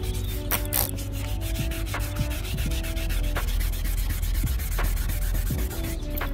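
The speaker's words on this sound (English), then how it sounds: "this is one of those situations where you will have to hand sand" Hand sanding of a 2014 Toyota Highlander headlight lens, a steady, close scratchy rubbing with rhythmic back-and-forth strokes and no talking.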